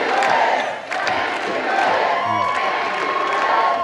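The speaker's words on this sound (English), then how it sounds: "That proclamation spurred a chant of approval from the crowd." A large rally crowd chanting and cheering in approval, loud and continuous with overlapping shouts and voices rising and falling.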